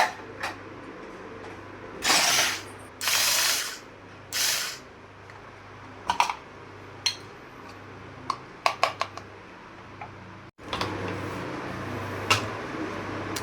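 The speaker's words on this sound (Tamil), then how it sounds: "வெங்காயத்தை 2ஆக கட் பண்ணிவிட்டு நம்ம உள்ளே போட்டு இன்றைக்கி ஸ்லைட் பண்ண போகிறோம்." A manual pull-string chopper slicing halved onions, heard as several loud whirring bursts from quick string pulls followed by scattered sharp clicks and knocks of the plastic container, close up with no talking.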